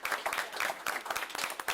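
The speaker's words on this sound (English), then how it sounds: "Please give them a round of applause." Audience at a California Community Colleges Board of Governors meeting applauding energy partners: a brief burst of many hands clapping, crisp and busy, moderately loud throughout.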